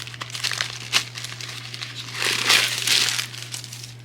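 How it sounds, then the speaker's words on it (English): Paper stuffing is pulled out of a small Bottega Veneta handbag, giving close, irregular crinkling and rustling bursts that swell and fade over a faint steady hum. "let me take out the stuffing"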